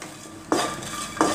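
Chili, garlic and salt stirred in a pan: two scraping stir strokes, about half a second apart, over a soft background hiss, fairly close, with no voices.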